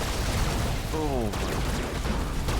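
Sniper gunfire rattles through a chaotic Battle Aces real-time strategy battle, with dense, loud explosive volleys of shots over continuous game noise and a brief rising tonal sweep in the middle.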